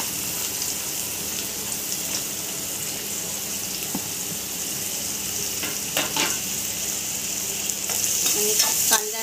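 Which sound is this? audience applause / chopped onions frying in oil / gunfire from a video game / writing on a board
chopped onions frying in oil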